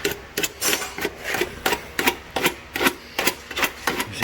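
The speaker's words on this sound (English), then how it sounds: "I take this little cheese grater thing and just kind of like level it out" Repeated rough scraping strokes, a rasp shaving down body filler on a 2006 Ford F-150 in a steady back-and-forth rhythm, close and fairly loud, with no voices.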